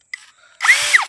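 A cordless drill runs on a 20V 10-cell battery. After a brief faint whir, the motor spins up loud and close in a short high-pitched burst, its pitch rising and falling slightly before it cuts off.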